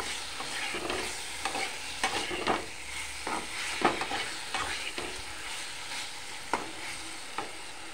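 Curfew fish fries in a pan with a soft continuous sizzle, punctuated by repeated scraping stirs at irregular intervals, close and fairly quiet, without talk.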